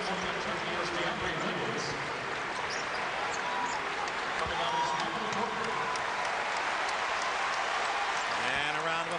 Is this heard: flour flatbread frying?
no